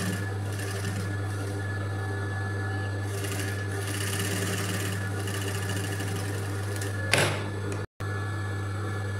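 A sewing machine runs steadily, stitching a piping strip onto fabric, with a strong low motor hum that holds throughout, then a brief louder burst near the end followed by a sudden cut.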